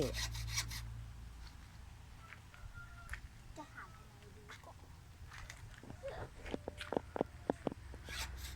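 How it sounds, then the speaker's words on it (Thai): Hand saw cutting wood for bed floor boards: rasping strokes, soft and scattered at first, then quicker and louder near the end, close by and faintly under background voices. "ทำแผ่นพื้นแผ่นพื้นเตียง เลื่อยให้มันกระฉับกระเฉงหน่อย"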